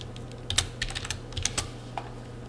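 Keys on a computer keyboard click in a quick, uneven burst of light taps while typing into a clinical web form, close and fairly quiet over a steady low hum, with no talking.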